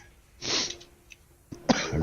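A person coughs on a livestream, with two separate bursts of coughing: one longer fit near the start and another sharper burst toward the end, close to the microphone with no talk.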